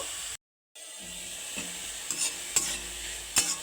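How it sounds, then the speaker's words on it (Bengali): Grated ginger fries in oil in a pan, a soft, steady sizzle with a few light stirring scrapes and taps. It is close and moderately quiet, with a brief silent gap near the start and no talking. "তেলের মধ্যে দিয়ে দেবো গ্রেট করে রাখা আদা আদাটাকে একটু আমি ভালো করে একটু হালকা করে একটু ভেজে নেব"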